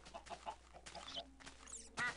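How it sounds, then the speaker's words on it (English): Chickens clucking in the Minecraft video game, with several short, soft clucks and one louder squawk at the end, quiet and fairly close. "lots and lots of chickens"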